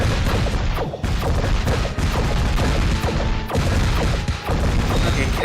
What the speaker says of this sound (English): Carrot missiles seem to be good.